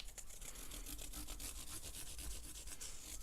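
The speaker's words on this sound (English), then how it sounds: "we're basically just taking those fret ends and we're just polishing them up and making them nice and smooth" Metal file rasping along guitar fret ends on a black limba (korina) custom Strat neck, a steady run of quick rhythmic strokes close up, with no voices.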